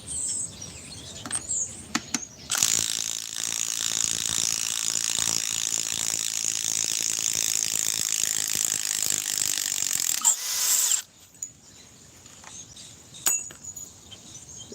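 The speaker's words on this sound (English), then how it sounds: "Go back to the Milwaukee stubby." A Milwaukee stubby ratchet works with rapid clicking pawl ratcheting in a long sustained run, close and bright, bracketed by a few separate clicks and handling sounds in quieter moments before and after, with faint birdsong in the background.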